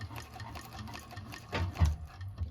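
A 1341 cylinder arm sewing machine stitches through clear vinyl for a bag, its motor running in a steady, quiet whir with a brief louder surge near the end.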